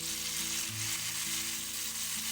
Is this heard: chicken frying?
yes